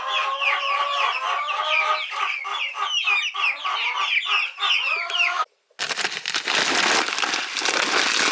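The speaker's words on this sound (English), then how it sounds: "Look at all you mini chickens!" Many small chickens, fed home fries and pancakes, cluck and chirp busily at close range for about five seconds, then the sound cuts to a brief gap followed by a broadband rustling noise.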